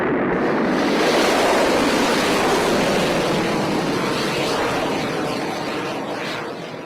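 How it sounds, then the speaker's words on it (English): A rocket liftoff effect roars as a broad, loud rushing rumble, sustained and steady before slowly fading toward the end, with no voices. "Liftoff will start in T-minus 10 seconds."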